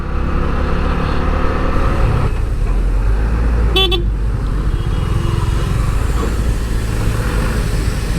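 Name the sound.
road traffic jam with car horns honking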